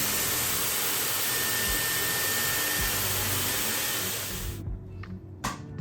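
A hair dryer styling tool blasts loud and close as it dries hair, a constant rushing whir that cuts off near the end, leaving a few faint handling clicks.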